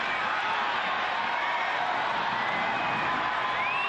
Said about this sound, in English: Crowd comes alive now as Guinzotti